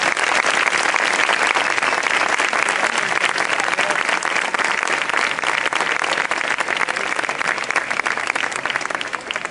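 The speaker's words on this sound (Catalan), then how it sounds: "Un fort aplaudiment per ells dos que ho han fet superbé" Loud, dense applause from a crowd at a neighbourhood festival proclamation in Manacor, continuous clapping filling the whole stretch without a pause and without talk.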